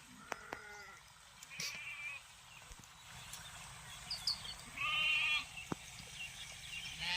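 Several sheep bleat at a distance near a watering spot, scattered calls over a quiet outdoor background with occasional faint knocks.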